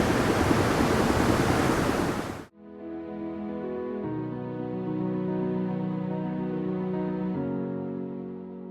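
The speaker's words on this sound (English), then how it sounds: "this water's churning and moving." Churning, moving water: a loud broadband rush of water, cut off abruptly, followed by a steady tonal hum.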